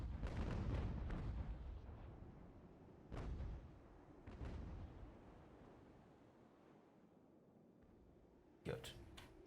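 Naval cannon fire from an Ultimate Admiral: Age of Sail battle, with a heavy rolling broadside at the start, two more booming volleys a few seconds apart, then a sharp distant crack near the end.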